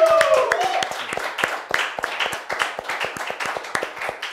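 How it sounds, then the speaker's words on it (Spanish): Studio audience clapping on a television talk show, a dense burst of many hands that holds steady throughout, with a voice calling out over the start and chatter mixed in. "¡Un aplauso!"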